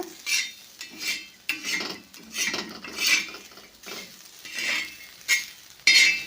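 Karchikai roasting in a pan are stirred with a metal utensil, giving repeated scraping clinks in an uneven rhythm, close and fairly loud over a faint sizzle, with no talk.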